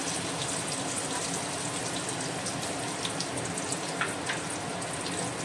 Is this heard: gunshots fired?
no